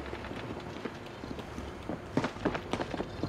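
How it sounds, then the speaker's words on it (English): Footsteps in the Warzone shooter, Season 5, a run of faint crunchy steps that grow into sharper, closer thumps near the end over steady game ambience. "Oh, I hear footsteps."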